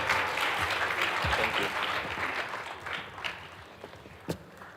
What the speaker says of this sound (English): Keep clapping, keep clapping. Make it louder, make it louder.